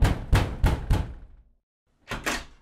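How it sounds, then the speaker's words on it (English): Four loud, heavy knocks pound on a door in a steady rhythm, then a short silence, then two more quick knocks, close and solid with no voices. "we were startled by a loud knock on the door."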